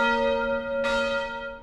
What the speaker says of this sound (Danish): når kirkeklokkerne bimler over byen